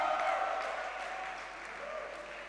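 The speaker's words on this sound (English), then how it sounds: "A round of applause, please." A crowd claps in sustained applause, fairly faint and distant, slowly tapering off over a couple of seconds.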